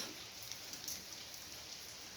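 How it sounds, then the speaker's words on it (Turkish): Steady rain falls outside in a continuous, even hiss of drops on surfaces, faint and distant, heard from indoors without any voices. "Yağmur yağdığı için içeride çekeyim dedim."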